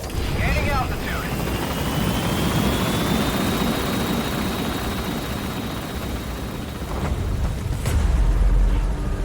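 Helicopter rotor and engine noise in the Metal Gear Solid V video game, a steady loud drone as the aircraft gains altitude, with a faint rising whine above it and a heavier rumble near the end.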